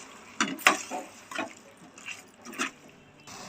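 Water poured into a pan of sautéed potato gravy ingredients, arriving in a few short splashy bursts with quiet gaps between them, close and moderately loud, with no talking.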